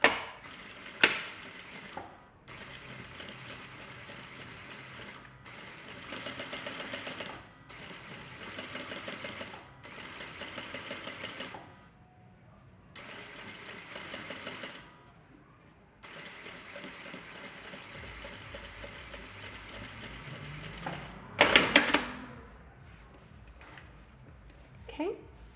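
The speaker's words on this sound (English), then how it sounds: "with the sewing machine, you're going to sew right along the edge of the fold" A sewing machine runs in bursts while stitching along the folded edge of a pillow cover, stopping and starting several times, with a louder clatter near the end. Someone talks over parts of it.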